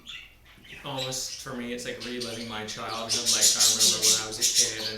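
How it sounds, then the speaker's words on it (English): Loud birds calling outdoors near a barnyard setting, with bright repeated chirps and calls rising and growing stronger toward the end, heard beneath steady conversational speech from two people. "sorry about the birds, they're very loud"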